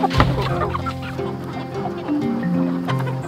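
A Red Broiler meat hen and other chickens cluck steadily and close by, a busy run of overlapping clucks and short calls throughout.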